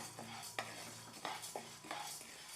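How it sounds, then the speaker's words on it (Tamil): Rice dry-roasting in a pan for sambar powder, heard as dry scraping stir strokes with faint sizzle and a few light crackles, close and fairly quiet, with no speech. "அரிசி பொரிய ஆரம்பிச்சிருச்சு பார்த்திங்களா இந்த அளவுக்கு வறுபட்டால் போதுங்க"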